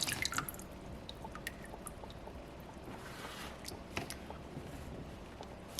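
Water dripping and trickling off a small soapstone orca carving during rinsing between sanding stages, with scattered close drips over a soft, steady wash.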